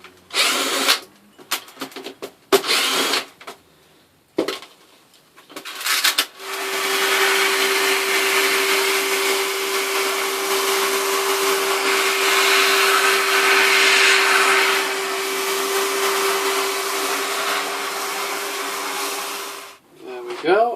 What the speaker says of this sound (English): we'll hoover away any vermiculite